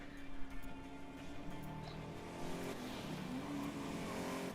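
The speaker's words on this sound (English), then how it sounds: "I'm hearing a car on my right side." Race car engine in the racing video game Grid, a revving motor with shifting pitch passing nearby, moderately quiet and continuous, no talk.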